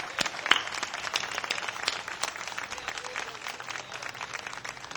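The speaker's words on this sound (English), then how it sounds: "Let's give our vets a round of applause." A hometown homecoming parade crowd gives veterans a round of applause, a thin, fairly distant patter of scattered outdoor clapping held steady for several seconds.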